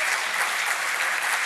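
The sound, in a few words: audience applause at a tech summit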